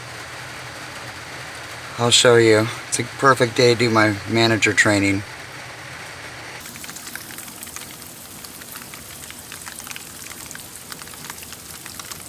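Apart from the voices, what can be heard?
rain falling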